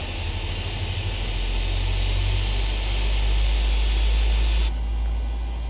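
A Boeing 737 jet engine spooling up in Microsoft Flight Simulator: a loud, steady roar with a deep low rumble that builds slightly, then the high hiss drops away near the end.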